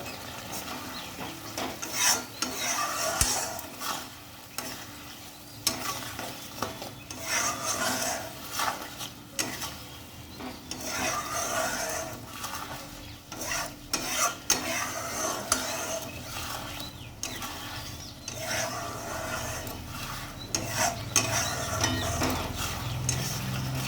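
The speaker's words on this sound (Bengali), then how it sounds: "দেখো মশলাটা কিন্তু কষানো হয়ে গেছে, তেল ছেড়ে গেছে।" A spatula scrapes and stirs spice masala with turmeric and sugar frying in oil in a pan, giving continuous rhythmic rasping strokes over a soft sizzle, close and moderately loud.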